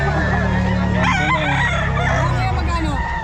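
A black Peruvian rooster crossed with Tornado Hatch crows at a busy Bocaue pet market, its drawn-out call sounding close amid steady crowd chatter and market noise.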